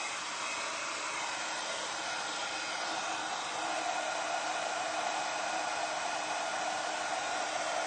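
Hair dryer blowing on a decoupaged ceramic vase, a steady close whooshing hiss that runs unbroken throughout.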